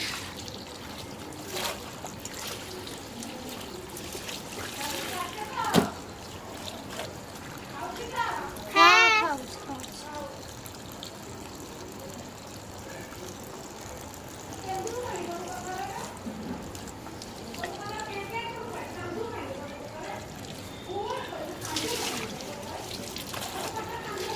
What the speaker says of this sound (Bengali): আমি কাপড়গুলো ধুয়ে নেবো